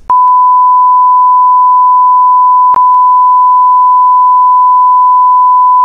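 A shot timer app on a mobile phone emits a loud, steady electronic tone held for about six seconds, broken by a brief click partway through, with no talking.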